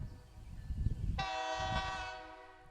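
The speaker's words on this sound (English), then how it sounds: "The train is setting out today on the aptly named Clinton branch with 16 cars." A Missouri & Northern Arkansas Railroad freight train of 16 cars on the Clinton branch, on former Missouri-Kansas-Texas main line, sounds a loud, sustained multi-tone horn. Low engine rumble comes first, then the horn starts and holds.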